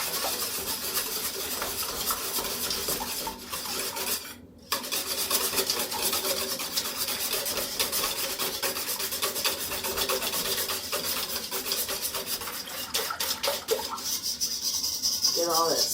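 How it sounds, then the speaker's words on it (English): A cinnamon mixture is whisked in a large bowl, a continuous close scraping and swishing rhythm that keeps on with only a brief pause partway through. "Then I can just put them in here and whisk them around"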